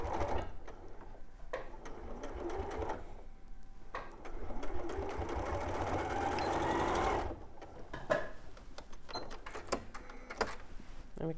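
A sewing machine stitches the fabric pieces of a toy rabbit. The motor whirs in long steady runs broken by short pauses and clicks, and soft speech comes in between runs.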